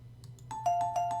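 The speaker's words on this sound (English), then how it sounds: "I blocked out the sound of the doorbell and drifted off to sleep." An electronic doorbell chimes in the horror video game The Girl With Vacant Eyes, sounding several quick repeated rings, clear and close over a low steady hum.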